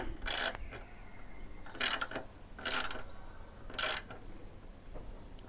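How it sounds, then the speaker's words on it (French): Bolt tightening on a motorcycle tank bag mount: four short bursts of ratchet clicks spaced about a second apart, close and fairly quiet with faint background noise between them. "Je viens terminer mon serrage."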